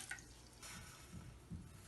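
One cup of water is poured into a pan for semolina (suji) halwa. The result is a quiet, brief splashing with soft trickling bursts.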